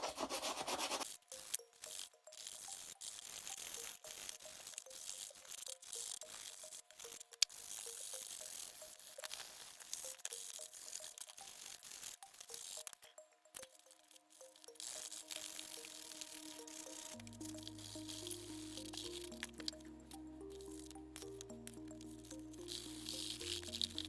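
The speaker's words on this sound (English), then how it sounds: "what I'm going to be doing now is buffing out the shoes" Leather Johnston & Murphy loafers being buffed, quiet repetitive rubbing and brushing strokes, faint and close, followed by soft background music toward the end.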